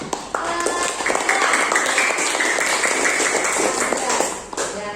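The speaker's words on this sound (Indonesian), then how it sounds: "Ayo beri tepuk tangan pada kelompok." Students in a classroom applaud a group, with brisk clapping from several hands mixed with chatter and voices over a steady room hum.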